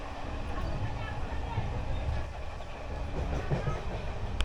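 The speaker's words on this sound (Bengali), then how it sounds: "প্রচুর অগণিত স্টেশনে এই ট্রেন দাঁড়াবে, যেহেতু লোকাল ট্রেন, পুরী মেমো" A Puri MEMU local train from Howrah runs along the tracks with a steady low rumble and faint rattling from inside the carriage, while voices murmur over the noise.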